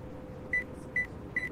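Three short electronic beeps sound in Cabin Crew Life Simulator, evenly spaced and clear over a low, steady background hum, each a bright single-pitched tone.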